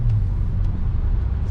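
A 2008 Saab 9-3 TurboX on new tires cruising a freshly paved highway, a steady low engine and road rumble from inside the car, loud and continuous with faint brief whooshes.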